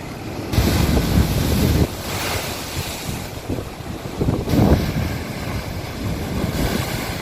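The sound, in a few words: rough stormy sea with strong wind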